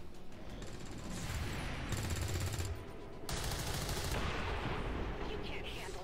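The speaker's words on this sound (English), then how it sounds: "I'm just suppressing him so that he can't throw a grenade." Sustained suppressing gunfire rattles through an XCOM 2 battle, a dense continuous burst of shots with game effects layered over it, fairly quiet overall.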